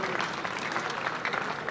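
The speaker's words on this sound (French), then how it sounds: "Applaudissons quand même" Audience applause for a graduate at a Congolese diploma ceremony, a dense, steady patter of many hands clapping throughout, moderately loud with some voices mixed faintly into the crowd.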